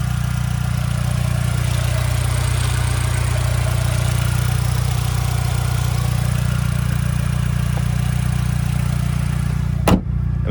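A Ford Mustang's 2.3-liter EcoBoost four-cylinder engine idles steadily up close with a low, even rumble, ending in a sharp thud as the hood closes.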